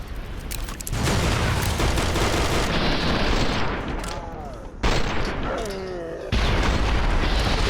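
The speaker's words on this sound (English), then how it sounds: "Why'd you guys throw a grenade up? Are you crazy?" Grenade blast in the modded Fallout New Vegas game, a loud broadband boom followed by sustained gunfire-like rumble and a second explosive burst, with faint tonal sweeps and a voice speaking in between.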